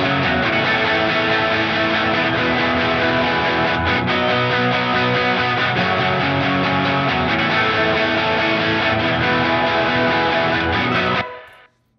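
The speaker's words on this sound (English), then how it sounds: "So if I play the rhythm guitar along with that." Rhythm guitar plays full, dense chords through a designer reverb vocal preset, loud and sustained for about eleven seconds before cutting off abruptly, with no voices.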